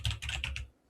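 Quick bursts of computer keyboard keystrokes as a password is typed, a short run of close, crisp taps ending in near silence.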